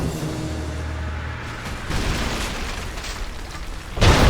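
An explosive barrel in Rise of the Tomb Raider is blown up by gunfire, a loud burst near the end after a steady rumbling game backdrop.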